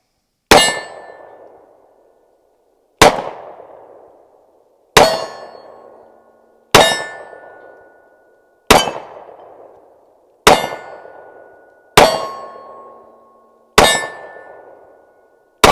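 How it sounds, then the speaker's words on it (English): Bullets from a Springfield Armory XD-45 ACP subcompact pistol strike steel targets downrange, giving eight sharp ringing clangs spaced about two seconds apart. Each clang decays cleanly, and no voices are heard. "I got addicted to shooting steel and I enjoy it. So let's send another one down range and see what happens."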